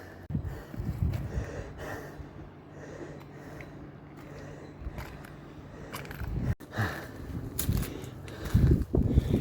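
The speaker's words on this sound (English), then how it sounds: "I'm breathing heavy because it's fucking knackering," Heavy, laboured breathing of a hiker climbing uphill on a trail toward a Hanuman temple, close to the microphone with rustling and footsteps, continuous over the whole stretch.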